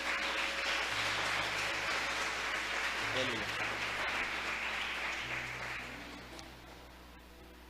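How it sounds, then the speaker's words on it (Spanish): A church congregation applauds during a sermon, a broad wash of clapping that fades toward the end, with a voice calling out briefly partway through. "¿Cuánto le da un aplauso al Señor"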